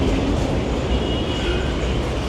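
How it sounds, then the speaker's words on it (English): A train rolls past on an elevated line along Taft Avenue in Manila, a steady loud rumble of rail cars with faint clatter and street noise, no voices. "See the train right there."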